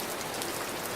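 Steady rain patters densely on a forest trail, a constant close hiss of falling drops with no voices.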